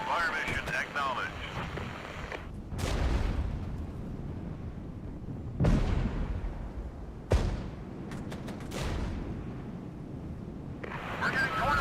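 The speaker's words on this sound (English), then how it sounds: "Reporting hostile fire, over." Artillery blasts and gunfire from the video game Regiments, with several heavy booming explosions spread across the battle and a constant rumble beneath, while voices talk over radio chatter.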